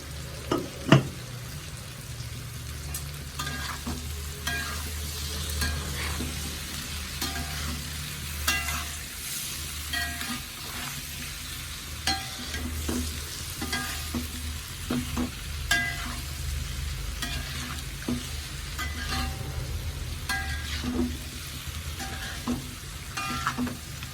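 Amla pickle mixture with crushed rock salt being stirred in a pot, repeated soft scraping and clinking strokes over a low steady background hiss, close and continuous with no voices.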